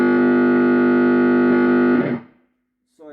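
A cheap Wish guitar gadget sounds a loud, buzzy distorted sustained note that holds steadily, then cuts off into a ragged fade and a short gap before a faint sound returns.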